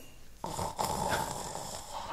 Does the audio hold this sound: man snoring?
yes